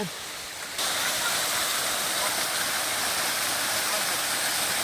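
Dense, constant roar of falling water from a waterfall beside a Shiva temple near Tirupati, filling the whole clip after a brief quieter start.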